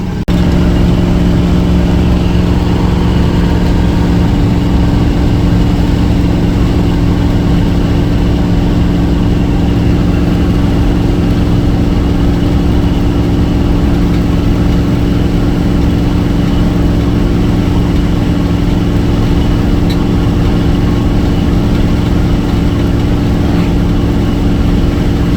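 A Chevy squarebody truck's engine drones at a steady cruise for the whole stretch, loud and continuous, with a deep hum and constant road and wind noise and no speech.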